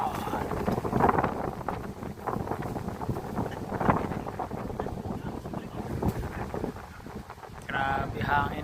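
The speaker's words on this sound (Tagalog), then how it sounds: "Grabe hangin dito mga Lodi." Strong wind buffets the microphone in jungle terrain, a constant rough rumble with gusting surges, while someone speaks over it throughout.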